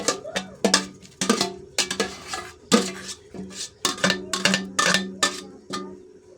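A utensil stirring sotanghon noodles into boiling soup in a metal pot, producing a brisk, irregular series of sharp clanks and scrapes against the pot, close and fairly quiet, with no voices.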